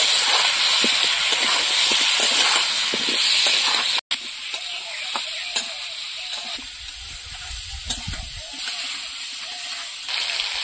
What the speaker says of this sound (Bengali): আলুটা এবার ভালো করে ভেজে নেব।